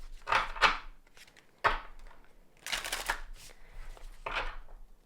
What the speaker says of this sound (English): what's also interesting is shuffling these two.